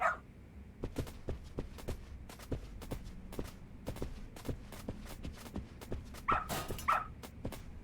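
A dog barks twice, in sharp yips, over a steady run of footsteps and light clicks in the Lost Judgment video game, moderately close with no talking.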